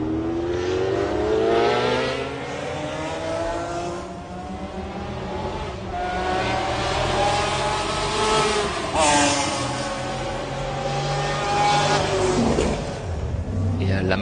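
The No. 51 McLaren racing at the 1995 24 Hours of Le Mans, its engine roaring loud and steady with rising and falling pitch as it accelerates and shifts, under continuous race commentary.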